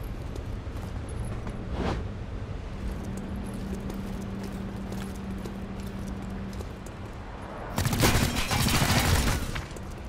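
Gunfire in the tactical video game XCOM Chimera Squad: a few faint shots early on, then a loud burst of rapid fire near the end over a low game ambience, with no one speaking.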